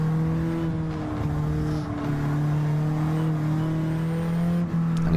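Race car engines drone steadily and loud in a racing game on the Dragon Trail Gardens circuit, a sustained close-up engine note with slight pitch shifts as the car holds speed, with no talking.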